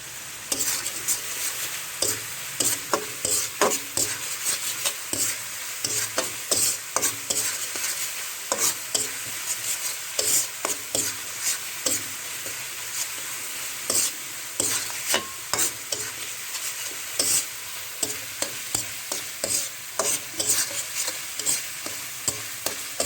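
Spice masala fries and is stirred in a pan with a little sugar added, a steady sizzle broken by regular scraping strokes of a spoon against the metal, no talking.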